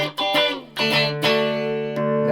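Electric guitar through a germanium Big Muff fuzz pedal with reverb, bridge humbucker then single coil, playing several sustained, thick distorted chords with sharp attacks, loud and close.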